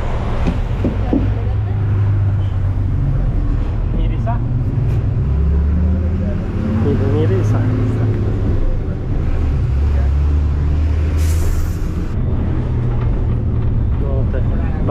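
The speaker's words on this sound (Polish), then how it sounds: "Bardzo głośne autobusiki." A loud bus engine drones and rumbles low and continuously nearby in Mirissa, with wind buffeting and a brief hiss of air near the end.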